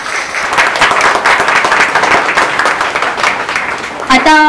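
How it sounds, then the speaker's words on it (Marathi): Audience at a Marathi wedding sangeet celebration in an apartment complex claps loudly and steadily, dense continuous applause throughout, ending with a brief musical sting. "एकदा या सर्वांसाठी जोरदार टाळ्या वाजवा."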